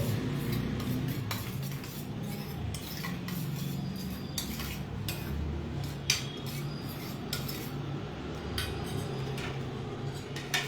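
Yogurt with salt and fresh coriander leaves stirred in a bowl with a spoon: continuous close scraping and rubbing, with frequent light clinks of metal against the bowl. No one speaks.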